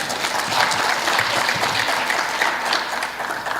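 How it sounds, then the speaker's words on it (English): A room full of people gives a loud, sustained round of applause, with dense, even clapping that continues without a break. "please give yourselves a round of applause"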